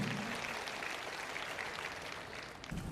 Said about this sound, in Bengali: করতালি দিয়ে আরো একটা অভিনন্দিত করবার জন্য